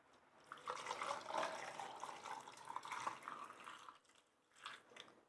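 Hot pickling liquid pours into jars of carrots in a kitchen, a steady close splash and trickle lasting several seconds that briefly eases off and then resumes.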